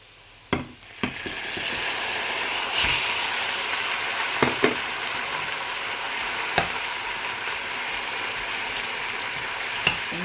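Ground pork sizzles and crackles steadily in a hot pan, with a few sharp scrapes and clinks of a utensil stirring now and then.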